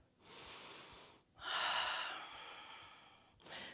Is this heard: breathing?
yes